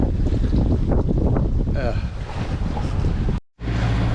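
Strong gusting wind roars across the microphone aboard a sailboat with one reef in the main, heading out onto the open ocean toward the Gulf Stream, with sea wash underneath, broken by a sudden brief dropout near the end.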